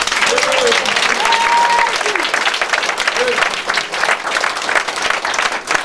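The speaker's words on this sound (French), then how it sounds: "Est-ce qu'on peut l'acclamer?" Loud, sustained applause and cheering fill a church service crowd, dense clapping running throughout with scattered voices and shouts mixed in.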